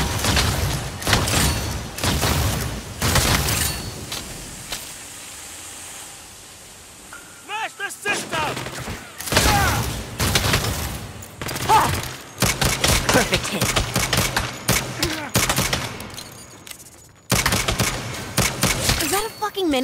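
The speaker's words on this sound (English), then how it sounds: "Is that a fucking minigun?" Sustained rapid-fire minigun bursts in the video game Saints Row, loud and dense, broken by short pauses and overlapping explosions and other gunfire, with voices talking over the action.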